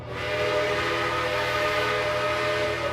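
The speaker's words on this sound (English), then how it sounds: "it's got my 6 chime. That's just a B&O 6, or yeah, B&O 6 chime." A steady, chorded B&O six-chime train whistle in a Trainz video game holds for about three seconds, its harmonious tones sustained at constant volume over a low rumble.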